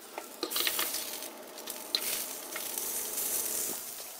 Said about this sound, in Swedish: Så låt oss vända på hamburgarna en gång till.